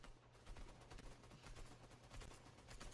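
Rapid, dense gunfire from a mobile shooter game crackles continuously in quick, overlapping bursts, quiet but steady, with no voices heard.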